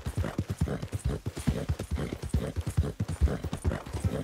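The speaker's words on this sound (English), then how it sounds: "Good horse." A horse's hooves clip-clopping in the Red Dead Redemption 2 video game, a steady rhythmic walking gait, close and fairly quiet, with a faint voice in the background.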